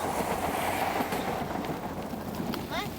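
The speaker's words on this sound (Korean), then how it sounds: "이거 지하철 아니야?" A subway train passes near a cycling route, a loud continuous rumble with rhythmic wheel clatter that eases slightly toward the end, with brief voices in the background.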